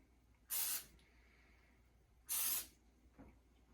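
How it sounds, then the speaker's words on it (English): Two brief, close bursts of olive oil spray hiss onto tomatoes a couple of seconds apart, followed by a small soft knock. "we flip them over and spray the other side."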